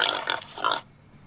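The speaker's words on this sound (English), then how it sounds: "Pigs love to bask in mud." A farm pig grunts and oinks in a few short, rough bursts close by, then falls quiet.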